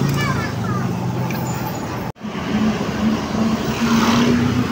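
Tricycle motor running steadily in the dark, a continuous low engine drone with a faint whine rising toward the end, interrupted by a sharp dropout in the middle; a voice is heard over it.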